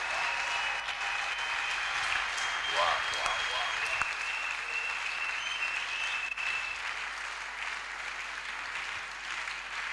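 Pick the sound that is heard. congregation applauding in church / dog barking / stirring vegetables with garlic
congregation applauding in church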